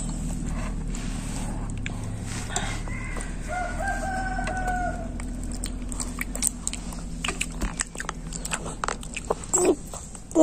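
A rooster crows a few times in the middle of the recording, set against a steady low background rumble, with some faint clatter toward the end.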